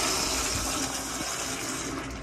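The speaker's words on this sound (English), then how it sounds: "I'm gonna go ahead and flush it." An American Standard toilet in a hotel restroom flushes with a loud, steady rush of gushing and refilling water, heard close up with no talking.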